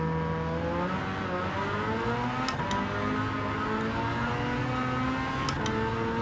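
A race car engine in Gran Turismo 7 revs high past 8,000 RPM with a continuous loud whine that climbs and dips through gear changes, close and steady, with no talking.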